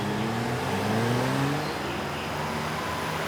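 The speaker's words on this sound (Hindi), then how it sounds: "गाड़ी की आवाज" A car engine drones steadily and slightly louder early on, its pitch easing down as it settles into an even hum, with no voices over it.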